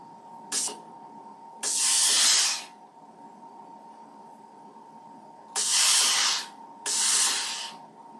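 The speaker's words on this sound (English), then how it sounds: "just a quick press to make sure those seams are pressed open really nice" A steam iron pressing fabric seams open on a quilt block lets out four sharp hissing bursts of steam, one short and three longer, close and clear against a low steady hum, with no talking.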